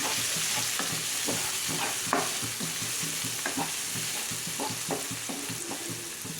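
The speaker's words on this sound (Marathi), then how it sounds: "त्याच्यामध्ये आपण टाकूया कांदा बारीक कापलेला छान मिक्स करून घ्यायचं आहे" Finely chopped onion frying in a pan for rava upma, a steady sizzle under repeated rhythmic scrapes and knocks of a spatula stirring, close and clear, with no one talking.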